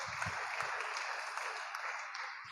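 A church congregation applauds, a spread of many hands clapping at moderate distance that holds steady for a couple of seconds, not very loud.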